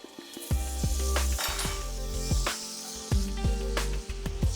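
Butter sizzles steadily in a hot frying pan while a utensil clinks and scrapes against the pan, with a busy hiss running under the knocks of cookware.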